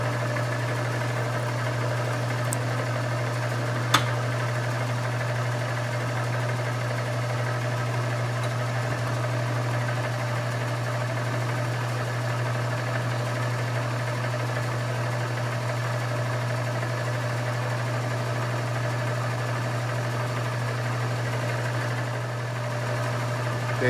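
A lathe cutting a thread about 40 thousandths deep on a T/C Black Diamond receiver cap: a steady, even motor drone with a faint metallic whine, plus one small tick near the start.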